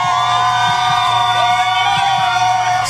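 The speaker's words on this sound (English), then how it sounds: "Students walked into school ready to take on the day with the community cheering them on." A community crowd cheers elementary students walking into school, a loud, continuous wash of whoops, yells and shouting voices with sustained shrill whistle-like tones running through it, close and unbroken throughout.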